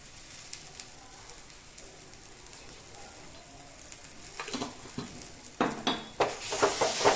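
Green pea paste for matarshuti kochuri filling, seasoned with sugar and salt, cooks down in a pan. A soft, low sizzle builds into louder, repeated scraping stirs over the last couple of seconds, with no talking.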